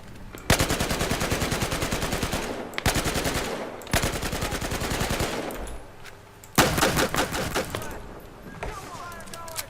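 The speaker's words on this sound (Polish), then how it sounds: "Nawet nie wiedzieli skąd do nich strzelam" Automatic gunfire in the Battlefield Hardline video game: loud, close bursts of rapid shots lasting a couple of seconds each, separated by brief pauses, with a voice faintly under the firing.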